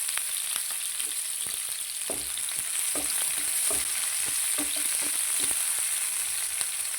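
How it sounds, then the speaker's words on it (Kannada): Onion, ginger and garlic fry in oil in a pot for restaurant-style capsicum curry, a constant close hiss broken by light clicks and scrapes of stirring. No voices. "ಈರುಳ್ಳಿ, ಶುಂಠಿ,"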